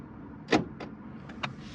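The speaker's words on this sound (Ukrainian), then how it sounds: "машина центральний замок повністю закрилася" A few quick mechanical clunks and whirs as a parked Renault's central locking engages, one louder thunk followed by softer clicks, against a steady low background hum.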